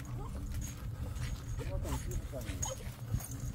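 Small farmyard dogs at a rural family home whimpering with short vocal bursts, fairly close, mixed with people talking and a steady low background hum.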